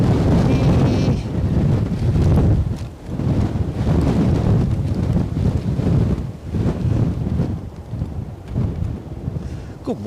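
Strong gusty wind at Edinburgh airport buffeting an outdoor microphone with loud, rumbling roars that surge and ease in waves, nearly drowning everything else.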